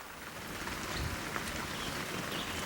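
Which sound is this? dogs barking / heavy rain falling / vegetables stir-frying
heavy rain falling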